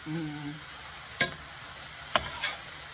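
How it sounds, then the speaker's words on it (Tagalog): A spatula stirs garlic and mushrooms in a pan for beef stroganoff, giving a few sharp, separate scrapes and knocks against the pan amid otherwise quiet moments. "Tuloy ko lang ang paghalo-halo nito hanggang sa mag-wilt na yung mushrooms"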